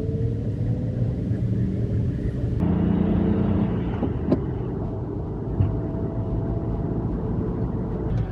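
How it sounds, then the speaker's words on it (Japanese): A micro camper car fitted with tire chains drives along a snowy road, giving a steady loud cabin rumble with a sharper shift partway through and occasional faint knocks. "今日はチェーンつけて雪道走ってみたいと思います"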